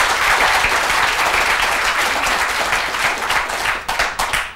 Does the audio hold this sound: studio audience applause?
yes